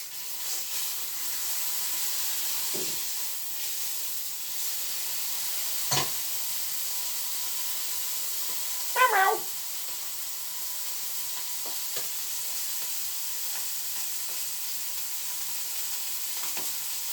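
A cheap steak frying in sunflower oil in a pan, a steady close sizzle and hiss throughout with a few brief clinks or pan knocks.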